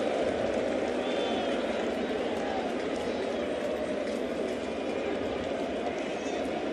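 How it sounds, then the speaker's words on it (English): A baseball stadium crowd standing and roaring at a Red Sox versus Yankees game, a dense, steady, unbroken wall of cheering that holds at full level throughout. "Crowd on its feet, waiting for 61."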